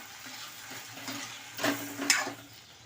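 Okra and potato bhaji stirred and sautéed in a pan with salt and kasuri methi, giving a soft continuous sizzle with a few louder scraping stirs near the end, close by and with no voices.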